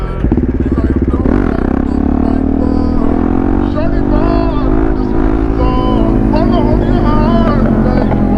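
Loud motorcycle engine, a KTM 690 or a Suzuki GSR 750, rising in pitch as it accelerates at close range with a rough, continuous drone while a person talks over it.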